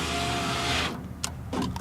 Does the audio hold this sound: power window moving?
yes